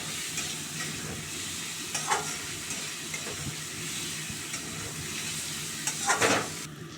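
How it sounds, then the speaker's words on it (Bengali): Potato pieces and onions frying in a pan for a Bengali fish curry, giving a steady close sizzle throughout with a few brief stirring scrapes near the start and end. "তারপর আলুর টুকরোগুলো পেঁয়াজের সাথে ভেজে নেব।"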